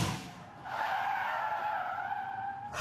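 A car brakes hard during a driving test, tires skidding in one loud, sustained squeal that lasts about two seconds before cutting off, with no voices over it.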